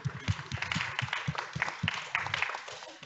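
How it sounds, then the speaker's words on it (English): Audience at a capacity-building forum applauding as a panel leaves the stage, steady clapping from a moderate crowd with distinct individual claps near the front, lasting a few seconds. "another round of applause"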